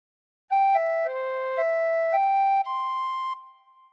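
Close and clear, a tin whistle plays a phrase of the Star Spangled Banner: about eight pure, steady notes moving through a short melodic line, with the last tone held and then dropping away.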